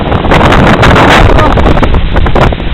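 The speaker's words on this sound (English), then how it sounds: "Oh, the wind! The wind!" Strong blizzard wind in Newton, Massachusetts buffets the microphone in a loud, continuous roar with gusty surges throughout, while a voice exclaims over it.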